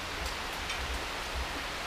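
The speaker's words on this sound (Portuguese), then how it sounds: "Saca essa chuva." Rain falls at a campsite in Paraty-Mirim as a steady, even hiss with faint low patter, moderately quiet and continuous with no voices.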